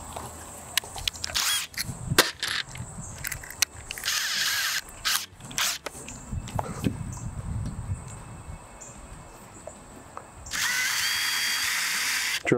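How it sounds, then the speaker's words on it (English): A power drill bores pilot holes for a camper table leg bracket in several short whirring bursts with handling clatter between them, ending in a longer steady run. "Drill a couple pilot holes."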